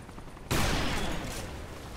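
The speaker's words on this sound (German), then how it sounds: "Geh doch beim Fass und schieß drauf." Gunfire in a video game shooting at a barrel, a sudden loud burst of rapid shots that starts abruptly and keeps rattling, close and dense, with no talk.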